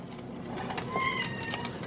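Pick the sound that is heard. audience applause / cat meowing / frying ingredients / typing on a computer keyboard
cat meowing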